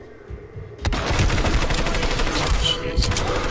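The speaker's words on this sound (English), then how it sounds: "Where are you guys shooting from?" Sustained gunfire in the Hitman Absolution video game, a dense rapid burst of shots starting abruptly and continuing loud and steady, with faint talking mixed in.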